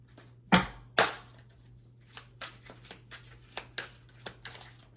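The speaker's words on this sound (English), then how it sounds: "So I will do a quick shuffle here." Tarot cards shuffled by hand: two sharp riffle bursts near the start, then a run of lighter, irregular card taps and slides, close and quiet with a low steady hum underneath.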